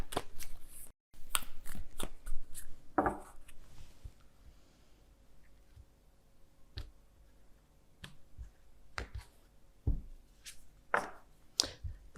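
Work Your Light oracle cards are shuffled and handled in quick, crisp riffling bursts and snaps, close and clear in a quiet room, coming in irregular clusters with pauses between.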